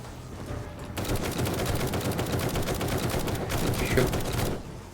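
Rapid bursts of heavy anti-tank rifle fire in the video game 7 Days to Die crack out over a steady roar, with repeated shots and no talking.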